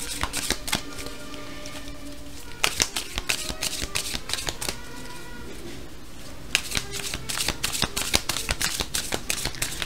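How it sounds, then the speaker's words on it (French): Tarot cards shuffled by hand at close range in repeated riffling bursts of crisp, flapping clicks. Brief pauses separate the bursts, and a faint tonal background from drums and trumpets runs beneath. "je mélange les cartes"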